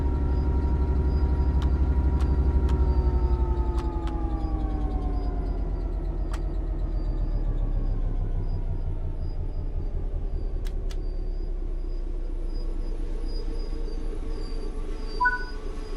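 A train pulls forward in Train Sim World 5, with a steady deep engine rumble and slowly falling tonal whine. Faint hissing clicks, like air brakes, sound now and then throughout.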